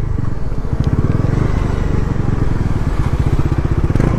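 Bajaj Pulsar NS 400Z motorcycle ridden hard in fifth gear above 7000 RPM, its engine giving a loud, continuous throbbing drone with steady pulsing and wind rush close by.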